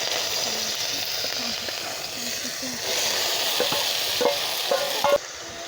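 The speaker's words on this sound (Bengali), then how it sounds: "এবার আমি গাজর, টমেটো আর পেঁয়াজটা হালকা করে নেড়ে নেব।" Carrot, tomato and onion are stirred in hot mustard oil for soupy Maggi noodles, making a continuous close sizzle with soft scraping stirs and a few light taps near the end.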